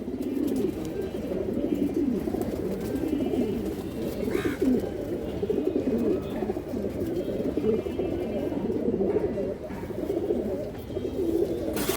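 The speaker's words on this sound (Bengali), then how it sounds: "বড় সাইজের একটা কবুতর" Cooing from a large purple-necked male pigeon, a low, steady murmuring coo that runs continuously for the whole stretch at moderate loudness, with faint background noise and no clear talk over it.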